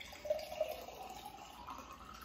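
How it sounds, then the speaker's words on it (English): Filtered water pours into a glass Ball jar, a quiet, steady trickle with a couple of brief splashy accents near the start, heard alone without talking. "And then you're gonna wanna do filtered water and you're gonna fill it up."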